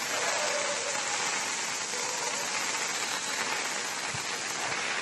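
Heavy monsoon rain pours steadily on roads and a flyover during a Karnataka downpour, a dense unbroken hiss that stays loud and even throughout with no voices.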